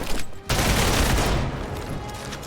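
Dense, rapid video game gunfire bursts in loudly after a brief lull and keeps up as a continuous, close barrage until the end.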